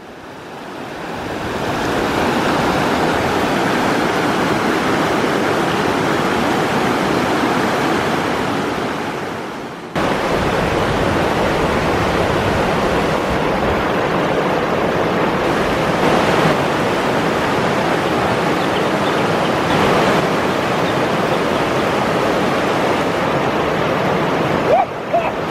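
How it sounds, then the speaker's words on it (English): Aggressive river rapids rush and churn in a steady, close roar of broadband water noise, with a brief cut partway through and faint voices underneath. "It's some aggressive water"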